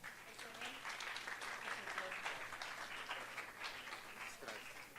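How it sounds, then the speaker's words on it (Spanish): Audience clapping at an award ceremony during a judicial conference on agrarian justice, fairly faint and steady, a soft continuous patter with voices faintly beneath it. "Un aplauso, por favor"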